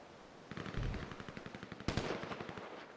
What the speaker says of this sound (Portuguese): Teve tiro aqui.